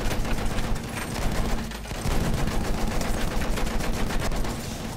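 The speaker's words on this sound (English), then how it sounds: "Machine gun over there." Rapid machine gun fire rattles almost without pause in Battlefield 1, a dense, loud burst of gunfire and battle noise with a brief lull near the two-second mark before the shooting resumes.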